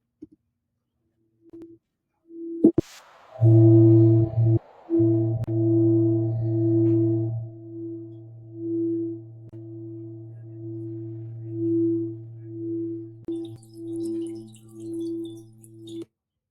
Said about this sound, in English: the singing bowl, we listen to it, we sit and we breathe